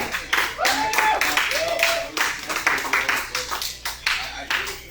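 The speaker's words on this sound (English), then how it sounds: "Give it up for Mark." An audience at a live comedy show claps and applauds in a dense burst that tapers off, with a voice talking over it.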